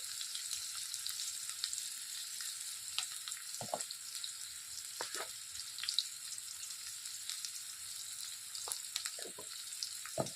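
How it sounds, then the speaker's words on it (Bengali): Fish frying in oil in a kadai with green chilli, chopped onion and salt, a quiet steady high sizzle with a few soft scraping stirs at scattered moments. "খুব ভালো করে ভেজে নেব।"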